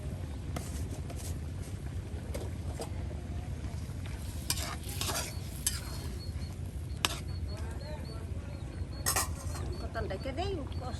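Free-range chicken with yam and spices being stirred and sautéed in a pot, with continuous scraping and stirring over a low sizzle and occasional clanks of the utensil against the pot.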